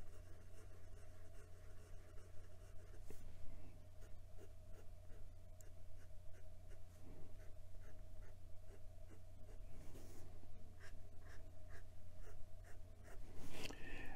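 A tuned Bock fountain pen nib, wet with noticeable feedback, scratching across paper in a steady run of soft rhythmic strokes over a low constant hum, close and fairly quiet.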